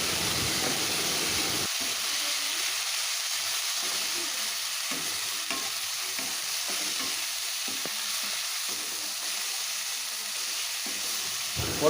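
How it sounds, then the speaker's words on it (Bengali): Onion with ginger-garlic paste fries in a pan for egg do pyaza, giving a steady, close sizzle with soft stirring scrapes that runs unbroken throughout. "পেঁয়াজটাকে এখন আমি ভালো করে ভেজে নিচ্ছি। এর মধ্যে দিয়ে দিলাম আদা রসুনের পেস্টটাকে।"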